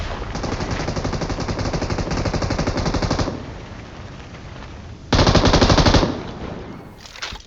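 Bursts of M249 machine gun fire in a battle royale video game, one long sustained burst and then a second shorter burst after a gap, loud and close, with no talking.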